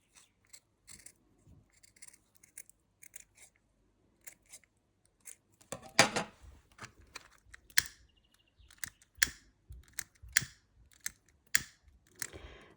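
Scissors trim excess satin ribbon in a series of sharp, close snips, sparse at first and then quicker, crunchier cuts clustered together, with no talking.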